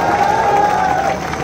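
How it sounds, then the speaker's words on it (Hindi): A large crowd at a political rally in Hisar claps and cheers steadily in a loud, continuous wash of applause that thins slightly at the end. "ताली ठोको गुरु ताली"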